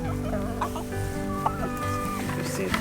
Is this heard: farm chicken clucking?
yes